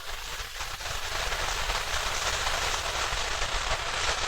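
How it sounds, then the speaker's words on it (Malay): Steady rain falls outside, a constant dense hiss with a low rumble that neither swells nor fades, heard from indoors with no talking. "Dekat luar sekarang ni hujan guys."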